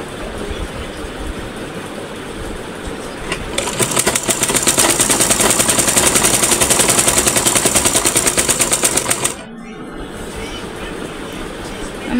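A sewing machine stitching in rapid, evenly pulsed bursts that start after a few seconds of quieter background and stop abruptly near the end, loud and close.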